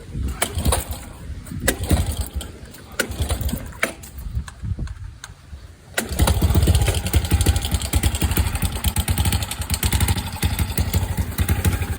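A Honda TRX90 ATV engine fresh from a top end rebuild runs close by, first with a rough, uneven popping idle, then settling into a louder steady putter for the second half; no speech is heard.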